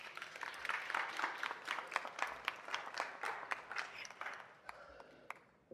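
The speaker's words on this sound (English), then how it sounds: "Please give them a round of applause." A city council meeting audience applauds a youth council with steady, moderately faint clapping that carries on for several seconds before thinning out into a few scattered claps.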